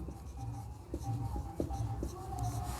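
A pen scratches across paper in quick, short strokes, with soft repeated taps and rubs while a maths solution on real numbers is written out up close.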